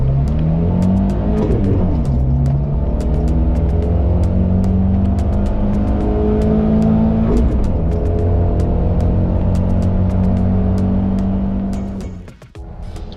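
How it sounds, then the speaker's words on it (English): Suzuki Jimny with a big 1.5 engine revs hard and drives close up, the pitch climbing and dropping through repeated clutch-dipped surges before easing off near the end. "you can keep dipping the clutch and make it wheel spin and skid out a little bit"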